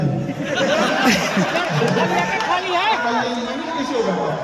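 A large crowd of students packs a hall at a Patna meetup, their dense overlapping chatter forming a loud, continuous babble that never lets up.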